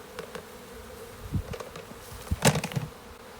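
Honey bees buzz in a container during varroa mite testing, a steady close hum with brief louder surges as individual insects fly about near the mic.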